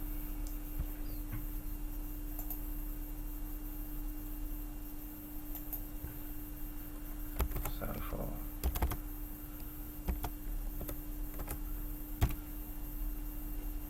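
Typing on a computer keyboard: quiet, scattered key clicks in short bursts over a steady background hum, fairly faint and close.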